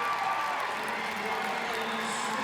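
A steady wash of crowd noise and cheering fills a gym at a girls basketball state final between Medfield and St. Mary's. It stays loud and even throughout, without distinct individual claps.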